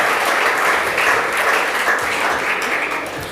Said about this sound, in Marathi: एकदा जोरदार टाळ्या फाउंडेशनसाठी होऊ द्या